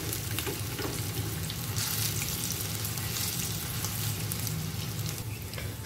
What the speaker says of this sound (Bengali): এখন পেছনের দিকটা ভাজতে হবে